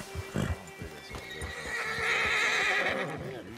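A horse in Red Dead Redemption 2 whinnies loudly and close by, with a burst of clip-clopping hooves near the start and a drawn-out neigh that rises through the middle of the stretch.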